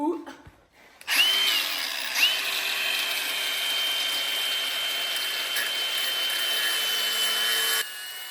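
Power grinder on a Volvo overland chassis, cutting through suspension bushings and bolts, a loud steady high whine that runs for several seconds before easing off, with a voice heard briefly at the start.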